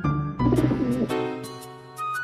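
A cartoon pigeon coos in a short series of soft, tonal bursts, fairly close and clear, with bright music-like chimes and tones layered over it.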